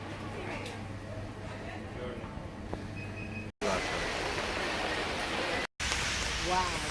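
Heavy rain falls on a street in Rome, a dense, steady hiss that is broken by two brief gaps, with faint voices in the background.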